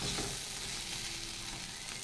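Food fries in hot oil with a steady, hissing sizzle that stays even and close for the whole stretch, with no voices.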